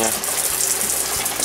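Water gushes steadily from a tap into the heated tank of an outdoor summer shower, a continuous hissing flow with slight fluctuations and no talking over it.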